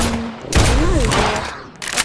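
Gunfire in the Roblox zombie survival game Survive the Zombies, a short loud burst of rapid shots with a tonal game sound beneath, close and alone.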